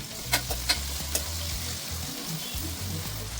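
Onions and green chillies sizzling in a pan for mutton palak keema, a constant close frying hiss with a few sharp utensil taps early on.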